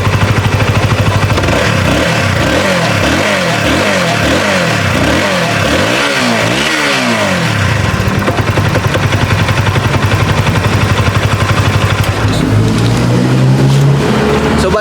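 A small engine runs loudly and steadily after its starter has been repaired, rising and falling through repeated revs early on before settling into a continuous close-up drone.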